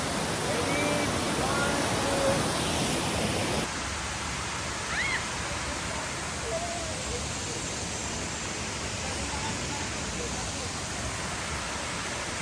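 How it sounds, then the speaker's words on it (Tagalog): Hagimit Falls on Samal Island sends up a steady, broadband roar of falling water. It is louder for the first few seconds, then settles into a continuous even rush with no other clear sounds. "We are now here at Hagimit Falls in Samal Island."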